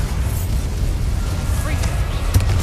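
Bombarda spell explosion in the video game Hogwarts Legacy: a deep, sustained rumbling blast with a sharper burst near the end, loud and close.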